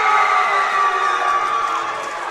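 A loud crowd at a varsity boys high school basketball game cheers and shouts in a sustained roar, steady throughout and fading slightly at the end.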